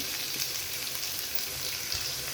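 Onion, garlic and chillies frying in oil until brown, a steady close hiss of sizzling with fine crackles, even in loudness throughout and with no voices.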